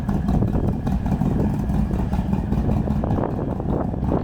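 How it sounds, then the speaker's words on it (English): Harley-Davidson motorcycles pulling away from a stop in Mayo, a steady, loud, close engine rumble that runs unbroken throughout. "Just gonna grab a quick coffee, watch these boys ride off,"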